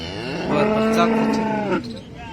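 A cow at the Baramati cattle market gives a long, loud moo, its low droning call swelling and holding for over a second before breaking off, close by with no talk.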